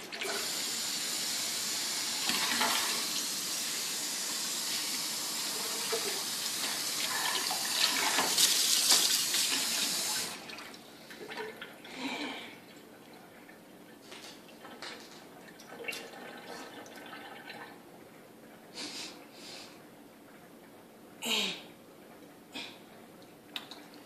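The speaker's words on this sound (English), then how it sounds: "Why don't I just try the sink for water or something?" A sink tap runs with a steady, fairly loud rush of water for about ten seconds, then shuts off, leaving scattered drips and small splashes in a quiet room.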